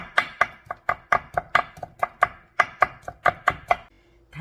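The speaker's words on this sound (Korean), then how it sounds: "당근도 아주 얇게 채 썰어줍니다" A knife cuts carrots into very thin julienne strips on a board, giving a quick, even series of about twenty sharp chopping knocks, close and alone, fading out at the end.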